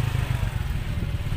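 Suzuki Skywave automatic scooter engine pulling up a hill, a steady low droning hum with a rough mid-range buzz that holds constant and close throughout, no talk.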